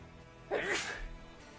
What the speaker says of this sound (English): I'm going to sneeze again